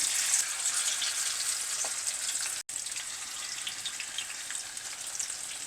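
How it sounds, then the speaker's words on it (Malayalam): Prawns fry steadily in hot oil over a lowered flame, giving an even, close crackling sizzle that carries on throughout with only a momentary break. "എണ്ണ നല്ലപോലെ ചൂടായി കഴിഞ്ഞാൽ ഒരു ശകലം ഒന്ന് ഫ്ലെയിം കുറച്ചതിന് ശേഷം നമുക്ക് ഓരോന്ന് വറുക്കാനിട്ടാൽ മതി"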